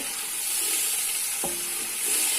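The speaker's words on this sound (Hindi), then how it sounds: "ये अदरक है, इसको थोड़ा सा हम 2 मिनट के लिए भूनेंगे।" Ginger frying in a pot while preparing beef yakhni pulao gives a steady, hissing sizzle with a brief utensil scrape partway through, close and continuous.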